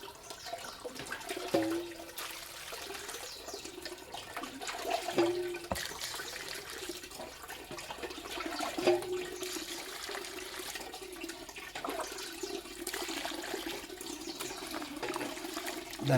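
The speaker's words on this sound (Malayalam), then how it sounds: "ഈ ചെറുതാക്കി ഞുക്കിയതിനകത്തേക്ക് നമുക്ക് വെള്ളം ഒഴിച്ച് ഒരു 2 പ്രാവശ്യം നല്ലപോലെ കഴുകിയെടുക്കാം." Water is poured over chopped dried fish to wash it, giving quiet, repeated splashing and trickling in a kitchen, with a few sharper sloshes as the water moves.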